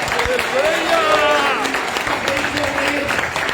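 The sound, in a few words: congregation clapping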